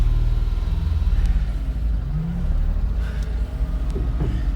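A 1993 Suzuki 4x4 Japanese mini truck, street legal, drives along with a steady low engine rumble and road noise, close and continuous, with a few faint clicks over it.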